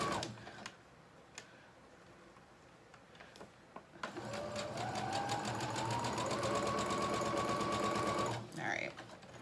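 A sewing machine stitches muslin seams without backstitching, starting with a few scattered clicks and then running steadily in a rapid mechanical patter with a rising whine for about four seconds before stopping, close and clear.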